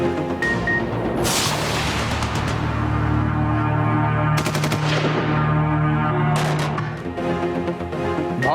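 Cross-border firing in the Khanjar sector near Bhimber: dense, continuous bursts of automatic gunfire with sharp repeated cracks over a steady rumble, loud and sustained throughout.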